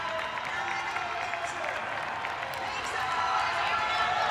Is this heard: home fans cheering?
yes